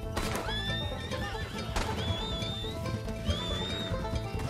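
Horses in Red Dead Redemption 2 neigh repeatedly with high, wavering whinnies over a steady clip-clop of hooves and a low game soundtrack.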